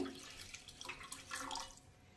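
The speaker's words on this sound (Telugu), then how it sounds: "నేను ఇందులో కొంచెం వాటర్ కూడా యాడ్ చేసుకుంటున్నానండి మళ్ళీని" Water added from a tap or jug into a pot of tamarind rasam: a soft, close splashing trickle with a few brief surges, fairly faint, no voices.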